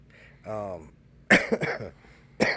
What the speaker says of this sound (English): I'll start with a cough.